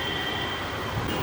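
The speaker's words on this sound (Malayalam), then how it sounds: "ഇതാണ് guys metro. Waiting for the train." A Kochi metro train, heard as a continuous, loud rumble with a sustained high metallic whine across the whole brief moment, no voices present.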